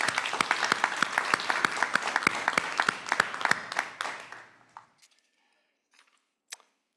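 Meeting attendees at a general assembly applaud an election by acclamation: a few people clap in a brisk, fairly close burst for about four seconds, fading out, followed by a couple of isolated late claps.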